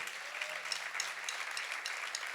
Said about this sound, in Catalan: un fort aplaudiment per ell